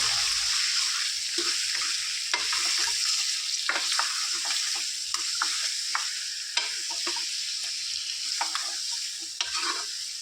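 Salted chicken fries in a pan, a bright steady sizzle punctuated by repeated sharp scrapes and clatters of stirring, close and without voices.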